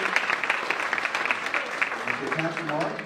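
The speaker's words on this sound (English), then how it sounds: "a round of applause for Will" Applause fills a community gathering at a church for a soundboard operator, a dense run of claps with a voice speaking over the tail end, close and moderately loud.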